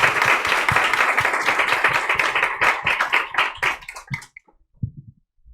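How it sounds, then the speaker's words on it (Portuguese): An audience applauds to welcome a woman named Ana at an evening talk, dense steady clapping that thins out and fades to a few scattered claps. "por favor, uma salva de palmas para essa amiga, Ana"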